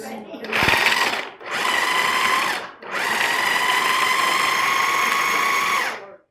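A kitchen food processor pulses ingredients for a chocolate hazelnut cashew tart crust, with three loud, close motor bursts, the last running longest, each starting and stopping abruptly.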